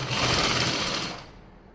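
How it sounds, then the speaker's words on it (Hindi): A sewing machine stitches fabric for a salwar in one short, loud continuous run that fades toward the end. "फोम पर नहीं चलानी है मशीन, हमने कपड़े पर चलानी है मशीन को ऐसे।"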